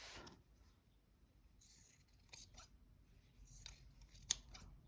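Scissors cut fabric for a small travel-kit pin cushion, with a few quiet, separate snips and one sharp, crisp snip near the end, close up in an otherwise hushed room.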